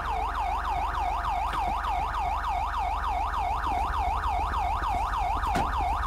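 Police car siren in the game GTA 5 during a transit police patrol, a loud rapid wailing yelp that sweeps up and down in a steady repeating cycle, close and continuous over a low engine hum.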